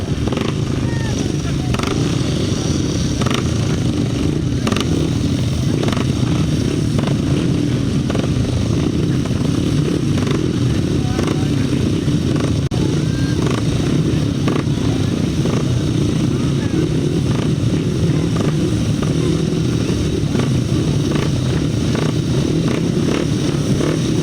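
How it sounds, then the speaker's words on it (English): 500cc sidecar outfits race at a grasstrack meeting, their engines a continuous rough roar rising and falling throughout, with a commentator speaking over the racing. "the heats of the 500 sidecars"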